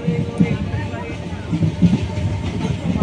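A moving train rumbles and rattles steadily, with rhythmic clatter from the carriage under scattered nearby voices.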